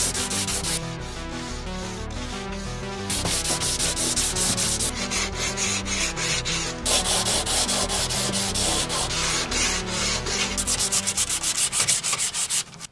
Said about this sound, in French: pour la main, rien de tel qu'une cale en bois et un disque